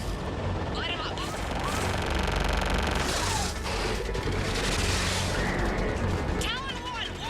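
Aircraft gunfire raking ground targets in the Mass Effect 3 game on PS4, dense rattling bursts and crashes layered with engine roar, with radio-style voices talking over the attack.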